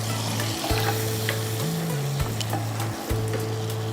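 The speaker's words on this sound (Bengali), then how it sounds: "বাটারের সাথে একটু তেল দিতে হবে, নাহলে বাটারটা পুড়ে যাবে" Butter and a little oil sizzle in a pan over a lowered flame, making a loud, close, continuous crackle. A steady tonal hum sounds alongside it, and no one speaks.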